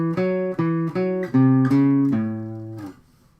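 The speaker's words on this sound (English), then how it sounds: "Lick number 3 sounds like this." Electric guitar lick played in a shifted position: a short run of about seven clear, picked single notes in a steady rhythm, each ringing briefly before the next, ending with a sustained note that fades out; no voice.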